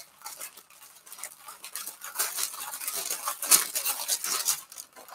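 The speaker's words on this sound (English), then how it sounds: "Sorry about that crinkling noise." Crisp paper crinkling close by, a continuous run of rustling and crackling that grows busier and louder as it goes.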